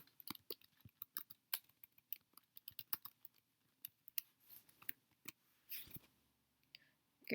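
Fingers tap on a computer keyboard during document editing, producing a quiet, irregular run of close clicking keystrokes with short pauses between bursts.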